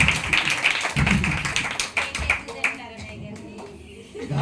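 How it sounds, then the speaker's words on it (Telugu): Audience clapping loudly at a New Year 2025 celebration, a burst of sharp, close claps that fade into scattered taps while background voices and murmur continue beneath. "సంగీతం కోసం గట్టికి చప్పట్లు కొట్టండమ్మా"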